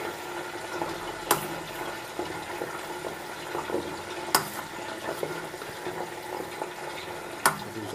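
Butter bubbling in a pot while being clarified into ghee, a continuous soft seething and popping texture with a few sharper pops, close and steady, with no talk.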